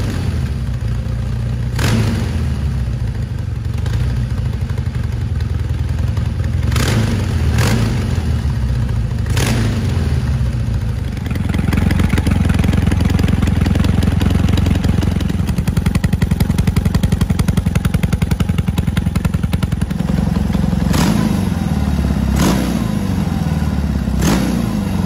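A Walzwerk cafe racer motorcycle with twin SC Project stainless steel exhausts idles with a loud, rough burble. Sharp popping cracks break through now and then, and midway the engine swells into a sustained, louder rumble.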